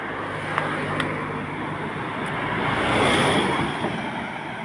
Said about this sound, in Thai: มีรถผ่านอยู่เรื่อยๆ ครับ